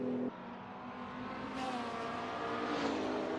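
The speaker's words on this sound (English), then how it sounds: "There's not much better than sitting near here and watching the cars speed by." A McLaren GT3 race car in a racing sim game roars past with a steady engine drone that swells and shifts pitch partway through, loud and continuous from start to end.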